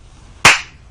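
One sharp hand clap lands close by, a single half-hearted smack with a quick decay and nothing else around it.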